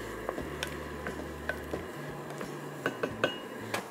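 A few light metallic clinks and taps as a deep-rimmed lid is set onto a pot of boiling kara kulambu, over a low steady hum; no talking.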